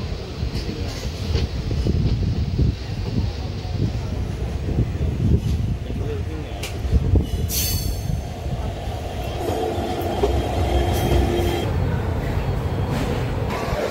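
A passenger train on the Madurai to Rameswaram line rumbles steadily along, with rattling wheels, clatter and a brief metallic squeal, loud and continuous throughout.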